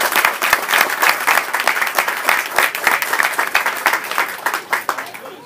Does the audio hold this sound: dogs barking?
no